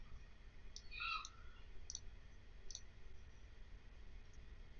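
A computer mouse clicks a few times while software is used, giving small, sharp, faint ticks at a steady gentle spacing over a quiet, hissy room background.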